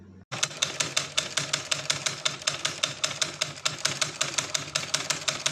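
A sewing machine stitches the bottom edge of a blouse, starting abruptly and running in a rapid, even clatter of needle strokes, loud and close with no talk.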